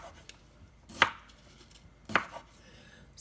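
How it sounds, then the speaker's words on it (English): A knife chops ginger root on a board, with two sharp, distinct cuts about a second apart against a quiet background. "here's the ginger root. So you just want to cut that up as well"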